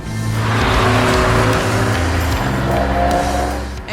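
Porsche 911 4S engine at full throttle on the Nordschleife, a loud, sustained flat-six roar with stepped rising pitch through the gears, close and continuous with no talk over it.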